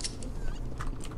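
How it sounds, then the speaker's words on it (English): A chicken in the video game CS:GO clucks in several short, close bursts over steady in-game background noise. "Look at that chicken."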